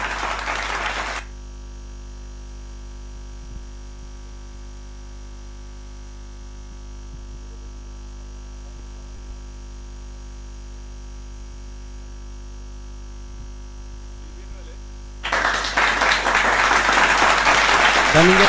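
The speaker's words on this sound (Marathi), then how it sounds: "बघा तिथून टाळ्या येतात, तुम्ही प्लीज टाळ्या तर वाजवा." Applause from the audience at a prize distribution ceremony for the Ganpat Baburao Chashak 2023 tournament. A brief burst of clapping opens, a long quiet stretch with a steady electrical hum follows, and a louder, dense round of applause returns at the end.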